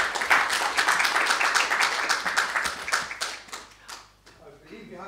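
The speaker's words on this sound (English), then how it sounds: "a round of applause." An audience claps after a speech at a Universal Peace Federation UK event, dense applause that thins and fades out over about four seconds, then a voice starts speaking.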